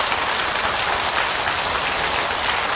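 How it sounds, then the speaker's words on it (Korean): Steady, dense applause fills a Buddhist dharma hall as the audience claps together at a special guest monk's sermon during a Baekjung memorial prayer service in Busan, a continuous wash of hand claps with no talk. "박수 한번 쳐주세요."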